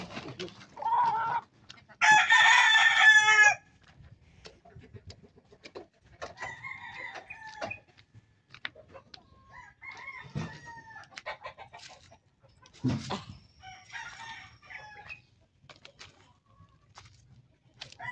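Chickens on a Filipino backyard vacation property near a mango tree: a loud rooster crow early on, followed by scattered bursts of clucking and short calls at close range, separated by quiet gaps.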